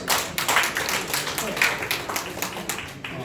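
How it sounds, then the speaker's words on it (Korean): A seminar audience at a press center in Seoul claps together in crisp, rhythmic bursts, the hand claps close and distinct with voices mixed in among them. "우리 지금 이대희 회장께서 박수 세 번 쳐합니다."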